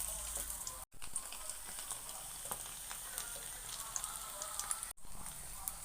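Cauliflower pieces for Gobi 65 sizzle steadily in hot oil, a dense crackling hiss that holds near and loud throughout, broken by two brief silent gaps.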